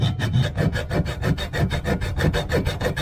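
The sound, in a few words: hacksaw cutting a bolt on a Suzuki DR200 engine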